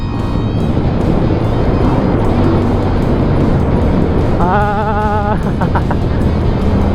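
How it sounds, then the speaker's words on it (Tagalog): A QJ Motor SRV 400 cruiser-style motorcycle is being ridden, with a steady, loud engine drone and rushing wind noise close up and a brief higher whine partway through. "First time ko mag-drive ng gantong motor eh. Gantong parang Harley yung datingan mga tol."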